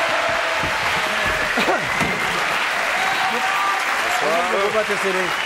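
Audience applauding at a French television variety show as a professor is introduced, a steady dense clatter of clapping with a few voices and music tones rising through it.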